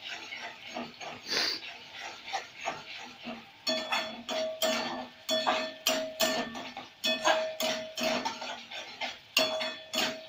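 Egg masala is stirred and fried in a pan, with repeated rhythmic scraping and clinking of a spatula against the pan, a faint sizzle underneath, and brief bits of background voice.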